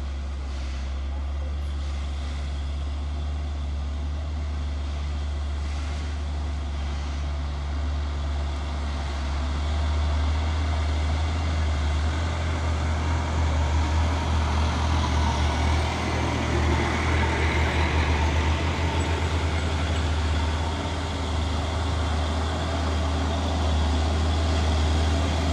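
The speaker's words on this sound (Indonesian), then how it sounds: "Dan di belakangnya ada satu nih truk box Dutro." A Hino Dutro box truck's engine rumbles low and steady at close range, joined by other traffic, with a heavier passage in the second half and faint voices underneath.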